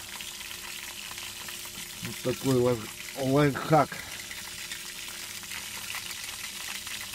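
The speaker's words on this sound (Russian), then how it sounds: "Ни разу я не пробовал жареные пельмени." Raw pelmeni dumplings fry in a pan with a constant crackling sizzle that runs throughout, while someone speaks briefly over it.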